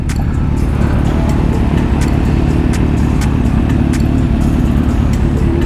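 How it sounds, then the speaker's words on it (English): Yamaha R1M sport motorcycle, a lowered 2015–16 model, revving hard with a dense, sustained high-pitched engine roar, loud and close, without talk over it. "Oh yeah, he revs it."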